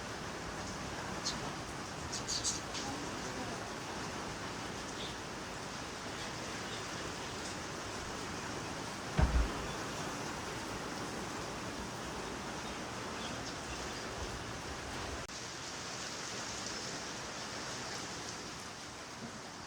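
Rain pours steadily outdoors during a stay on a mountain road trip in northern Pakistan, a dense even hiss throughout with one brief thump partway through.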